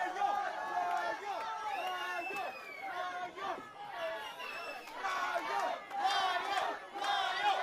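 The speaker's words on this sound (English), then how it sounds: "what a reaction from the Stanton crowd" A wrestling crowd at a House of Lucha tag team championship match yells and cheers loudly and continuously, with shouts and chatter rising and falling in waves.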